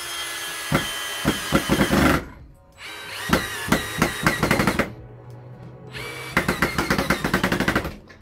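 An INGCO cordless drill set to torque 15 and speed 1 whirs in three loud bursts separated by short pauses, each run rattling with rapid clutch clicks.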